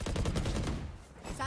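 Rapid gunfire from the tactical shooter Valorant, a dense burst of shots close and loud, fading briefly then returning, with a voice shouting over it.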